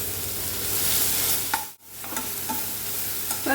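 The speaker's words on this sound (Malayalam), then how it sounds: "ഇവിടെ ഒരു തക്കാളി പൊടിയെ അരിഞ്ഞതെടുത്തിട്ടുണ്ട് ഇത് ഇതിലേക്ക് ചേർത്തിട്ട് നല്ലപോലെ വഴറ്റിയെടുക്കുക" Chopped tomato sautéing with masala in a pan, a loud continuous sizzle broken by a brief pause and a few stirring clinks, close up with no voices.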